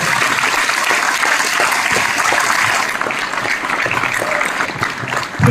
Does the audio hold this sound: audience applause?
yes